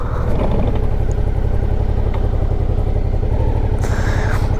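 A motorcycle engine chugs and idles steadily up close as the bike rolls slowly into a parking spot, with a faint clatter over the throb.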